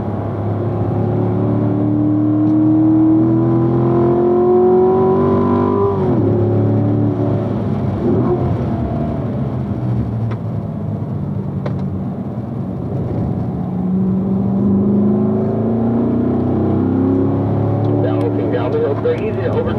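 A car circles a race track with its engine droning loudly and steadily. The pitch climbs, then drops sharply as the throttle eases, before building again toward the end.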